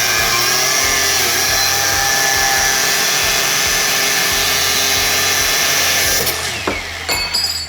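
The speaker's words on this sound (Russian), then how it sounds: "Окей, мы его пилим и смотрим на его внутренности, насколько он проплавляет" Power tool sawing through a welded seam on a test weld bead, a loud continuous grinding whine held steady for about six seconds, then stopping with a few brief clatters and tool sounds at the end.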